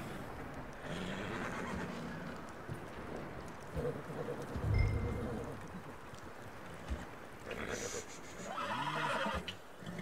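Horses neigh and whinny in a Red Dead Redemption 2 game scene, with a couple of distinct whinnies near the middle and end over an ambient outdoor background and faint hoof movement.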